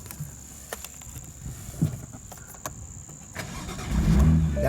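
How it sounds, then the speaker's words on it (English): A BMW M2 sits parked and quiet with faint background hiss and a few clicks, then its engine cranks and fires at the end, a low rumble swelling up close. "I'll actually start the car so you can hear it."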